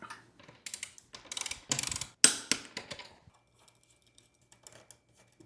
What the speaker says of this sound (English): Let's get this thing torqued up.